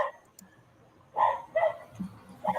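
Dogs bark a few times in short bursts in the background, somewhat distant and intermittent against a quiet room.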